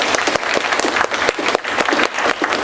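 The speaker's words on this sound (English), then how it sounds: "let's give our speakers a round of applause." Brisk, dense clapping at a small meeting, where attendees applaud the speakers for a few seconds with close, crisp hand claps and no talk.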